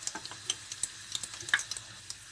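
Onions sizzle and crackle in hot oil, seasoning it for frying plantain puff puff, with sharp little pops and spits scattered irregularly over a soft frying hiss.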